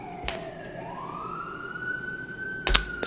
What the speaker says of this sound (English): these ambulance noises, they're happening too often